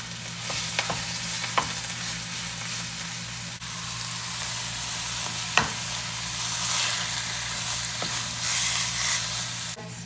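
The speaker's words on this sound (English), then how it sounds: "You could see that I'm going to give it a sear because that brings so much flavor" Beef sears in a hot pan with a steady sizzle and occasional sharp pops and spatters, close, alongside a low constant hum, with nobody speaking.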